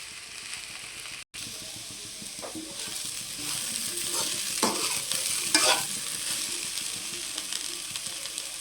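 Okra (bhindi) fries in a pan with a steady, close sizzle, while a spatula scrapes and stirs in bursts that grow louder toward the middle.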